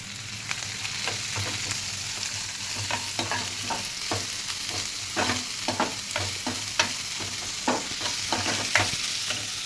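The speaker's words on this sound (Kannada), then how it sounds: "ಇವಾಗ ಈರುಳ್ಳಿ ಹಾಕ್ತೀನಿ" Chopped onions frying in a pan with green chillies, a steady close sizzle broken by repeated sharp scrapes and clinks of a spatula stirring, no talking.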